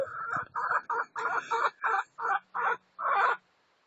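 Bantam hens cluck in a short series of about nine close, loud bursts, each a few tenths of a second long and evenly spaced, the last one longer, ending in quiet.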